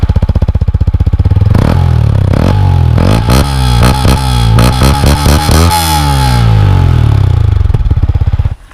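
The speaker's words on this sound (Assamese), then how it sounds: "এক্সজষ্ট সাউন্ডটো শুনি লওক আপোনালোকে" A Yamaha R15 V3 motorcycle with 6,242 km on it idles and then revs repeatedly, its exhaust rising and falling in loud, close, sweeping pitches before settling back to idle.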